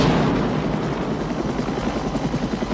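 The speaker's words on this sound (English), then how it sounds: "Of course, a helicopter shows up." A helicopter flying overhead, a loud, steady rotor thump with pulsing low beats filling the whole stretch, with no voices heard.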